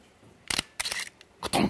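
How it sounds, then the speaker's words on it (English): A large Hasselblad shutter with an automatic delay fires in separate mechanical clacks and whirs, a short burst followed by a longer double action, then a final pair of clunks, all close and loud in a quiet room. "Now that's because it has an automatic delay and it's a big shutter."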